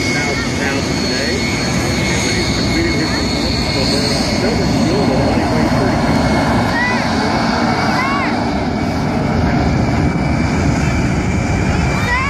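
A MiG-17F jet taxiing out at a Laredo, Texas airshow, its engine whining and roaring continuously at moderate distance, with an announcer's voice and crowd chatter running over it.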